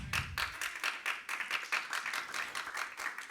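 A church congregation claps in steady rhythmic unison for the Lord, the even beats fairly soft and continuing without pause for a few seconds.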